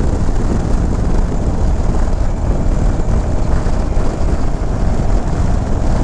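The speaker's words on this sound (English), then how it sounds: "Just get on that throttle and the bike just wants to take off." A 2023 Indian Sport Chief motorcycle ridden along curvy Texas roads, its engine and wind roar a steady, loud broadband rumble that fills the whole stretch without a break.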